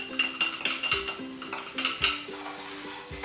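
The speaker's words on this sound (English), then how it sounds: "So you can hear it cooking" Tamarind paste and sugar cook in a pan while a utensil stirs, clinking and scraping the metal in a steady rhythm over a faint sizzle, close up and without speech.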